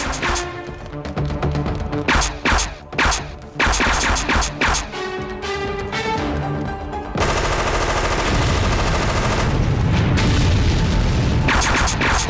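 Gunfire in a dubbed Telugu comedy movie scene, with sharp irregular shots and booms giving way to a sustained dense roar of continuous firing, loud throughout.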